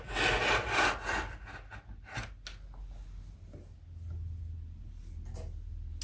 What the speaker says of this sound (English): I just need to cut around my ruler and I'll have my squares cut out